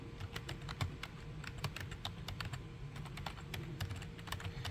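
A terminal command is typed on a computer keyboard running Ubuntu Linux, a quick, irregular run of light close key clicks over a low background hum, with no voices.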